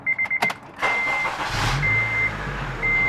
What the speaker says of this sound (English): I'm going to go ahead and crank the car real quick once again so you can hear it crank.